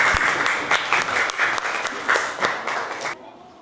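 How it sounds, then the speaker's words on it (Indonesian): Students in a classroom give a round of applause for a group presentation, a burst of many hands clapping close by with a few loud individual claps, tapering off before stopping abruptly. "Berikan tepuk tangan."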